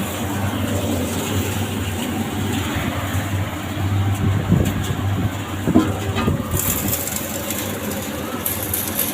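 A pepper dust cleaning machine runs continuously with a steady low mechanical hum and rumble, with faint rattles and brief clanks over the drone and no talking.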